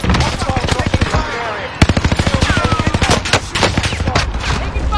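Rapid, loud bursts of gunfire crackle in quick succession during a battle royale video game, dense repeated shots with brief gaps, including pistol fire.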